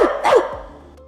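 A person imitates a dog with a couple of short, loud, close barks in quick succession that trail off into quiet.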